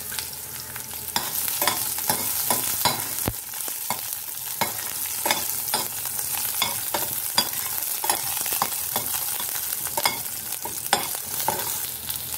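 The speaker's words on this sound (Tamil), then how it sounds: "வெங்காயம் நல்லா வதங்கிடுச்சு" Small onions (shallots) sautéing in a pan, a continuous sizzle broken by frequent scraping and clacking stirs at an irregular, fairly quick pace, close up, with no voices.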